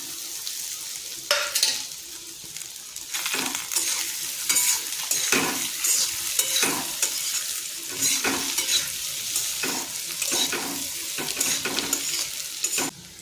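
Potatoes tossed into a pan for a dry potato and sweet potato dish sizzle and crackle while a spatula scrapes and stirs in repeated strokes, close and prominent.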